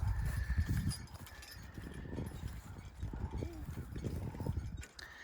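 Steady clip-clop of heavy horse hooves on soil as horses pull a plow, with creaking harness and equipment, someone talking intermittently over the plodding rhythm.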